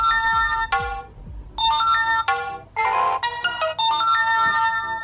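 An Android 5.0 smartwatch plays a notification sound, a loud bright electronic chime of rapid ringing notes in several bursts, heard alone.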